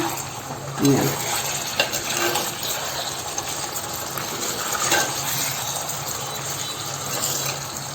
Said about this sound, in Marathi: आता आपण ना एकदा असं त्याला थोडंसं परतून घेऊया